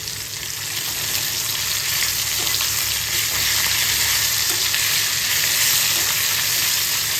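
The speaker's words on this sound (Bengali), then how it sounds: "মাছের তেল এবং কাঁটাটা অনেকটা ভাজা হয়ে গেছে।" Hilsa fish oil and fish bones fry in a hot pan, giving a loud, steady sizzle that crackles evenly from start to finish with no voices.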